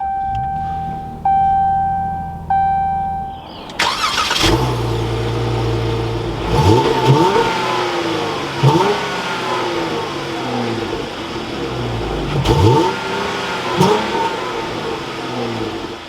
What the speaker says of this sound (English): inside the Dodge Charger, keeping my foot on the brake, we can go ahead and start it up